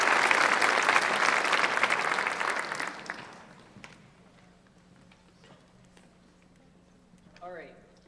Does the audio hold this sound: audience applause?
yes